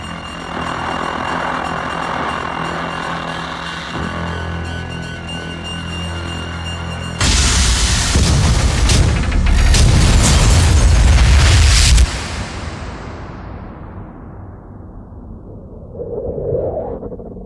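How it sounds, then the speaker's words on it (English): Massive reactor detonation in the video game Prey: a humming drone gives way to a loud roaring blast that rumbles for several seconds, then fades to quiet with a low swell at the end. "Warning, reactor detonation imminent."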